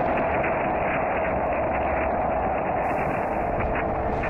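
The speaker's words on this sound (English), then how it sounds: "Picked up by the orbiting SOHO satellite, this is the sound of the sun." Low, continuous rumbling roar of the Sun's surface oscillations picked up by the orbiting SOHO satellite, a steady loud broadband drone with a faint hiss joining near the end.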